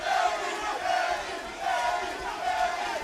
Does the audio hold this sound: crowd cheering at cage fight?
yes